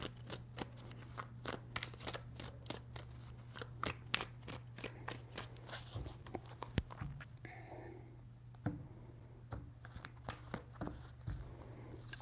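Tarot cards being shuffled in a quiet room, a series of short crisp riffles and slaps in irregular bursts, close and soft, with no talking.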